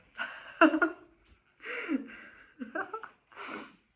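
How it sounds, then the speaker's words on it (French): Someone sniffs in short, separate breathy bursts, about four of them in quick succession, close and fairly quiet, each a brief nasal intake with small gaps of silence between. "Je renifle et tout."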